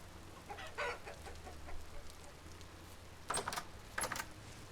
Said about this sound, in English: So I just grabbed the hen for Pablo to keep him company